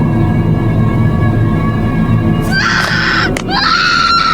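A loud, high-pitched scream from a person breaks out midway through a tense school ghost story scene, wailing in two bursts over a constant droning background.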